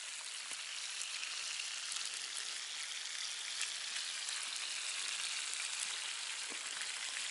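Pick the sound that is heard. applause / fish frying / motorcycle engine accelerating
fish frying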